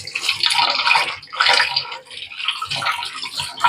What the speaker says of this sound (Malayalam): ഇനി നല്ല പോലെ വൃത്തിയായി ഒരു 2-3 പ്രാവശ്യം കഴുകിയെടുക്കട്ടെ